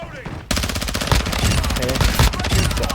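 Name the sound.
gunfire in a video game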